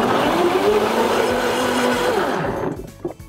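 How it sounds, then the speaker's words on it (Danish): A blender whirs loudly up close as it blends oats into batter for pancakes and waffles, running as one steady motor drone that winds down and stops near the end. "så tilsætter jeg havregryn, og så starter vi lige med at blende det"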